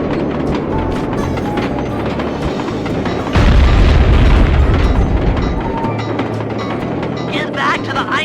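A caboose blown open in Sly Cooper 2 sets off one loud, sustained booming explosion partway through, rumbling over steady game background noise while a voice talks.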